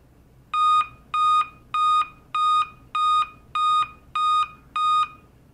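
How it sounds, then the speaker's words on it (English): Eight evenly spaced BIOS error beeps from a Dell laptop with a display fault, loud and close, each a steady harmonic tone lasting about a quarter second, with nothing else audible. "It's beeping."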